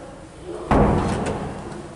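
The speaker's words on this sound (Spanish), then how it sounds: "Aquí observamos seguro funcionando, entrando y saliendo" A keyless door lock bolt slides and knocks into place, one sharp thud after a quiet lead-in, then a fading rattle.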